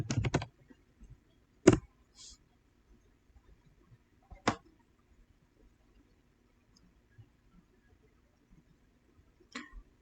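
Someone types on a computer keyboard, with sparse, scattered key clicks: a quick burst at the start, then single taps spread across a quiet background.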